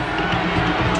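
A rugby crowd at a Tri-Nations match cheers and roars in a steady dense wash of massed voices.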